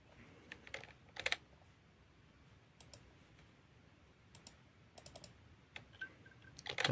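Quiet, intermittent keystrokes and clicks sound on a computer keyboard in small bursts with pauses between them.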